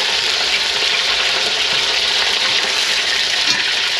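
Pork pieces frying in a wok for sweet and sour pork, giving a steady, loud, close hiss and sizzle of hot oil that runs unbroken, with faint stirring underneath and no talk.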